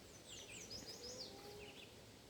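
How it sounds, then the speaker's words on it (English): Faint, high bird chirps and short tweets drift in from a distance over a low, steady outdoor hush at a campsite near a farm. "I'm loving the birds. I hope you guys can hear them."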